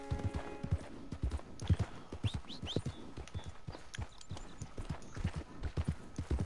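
Steady clip-clopping horse hooves trot along at a relaxed pace in the video game Red Dead Redemption 2, with faint bird chirps in the background and no talking.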